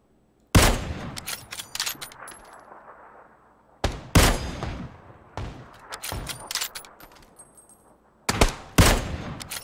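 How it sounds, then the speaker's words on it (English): In PUBG, an automatic Tommy gun fires in three bursts of rapid shots, each loud and sharp, with its echoes fading between bursts. "I was shooting parachuters."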